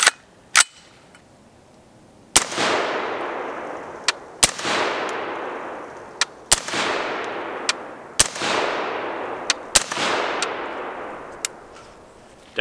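Suppressed shots from an X95 rifle fitted with a YHM Resonator K suppressor, firing 55 grain rounds: about six loud, sharp reports spaced a second or two apart outdoors, each trailing a long decaying echo, with no talk.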